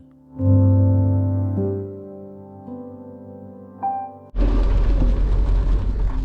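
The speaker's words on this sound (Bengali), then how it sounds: "ইঞ্জিনের মৃদু শব্দের সঙ্গে মিশে যাচ্ছে বৃষ্টির শব্দ" Heavy rain on a car driving through a downpour on the road from Kolkata toward Malda bursts in loud and dense near the end, following a steady humming tone.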